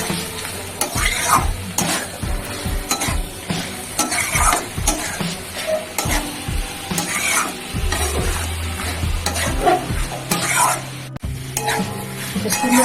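Prawn curry with kohlrabi and new potatoes being sautéed in a pan, a spatula scraping and stirring in rhythmic strokes over a steady sizzle of frying, close and busy.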